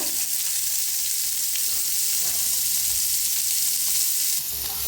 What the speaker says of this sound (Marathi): आपण कांदा भाजतोय